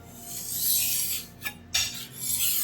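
A dull kitchen knife is drawn across a sharpener in a steady, continuous rasping grind, close and fairly loud, with a short break and a second scraping stroke near the end.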